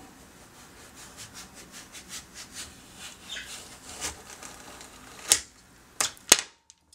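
A knife slices straight down through a vegetable standing on one end, several soft rubbing strokes followed by a few sharp clicks of the blade striking the cutting board at the close.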